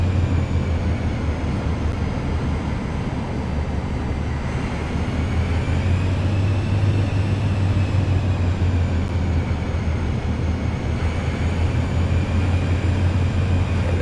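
Cirrus Vision Jet G2 engines spooling up for takeoff in MSFS 2024, a loud continuous jet roar with a steady low hum and a faint high whine, no talk.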